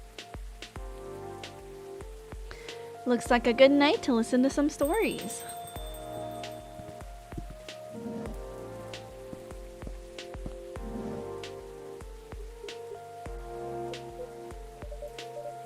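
Rain falls steadily in the game Coffee Talk 2, a soft patter under gentle background music, while a voice speaks over it for part of the time.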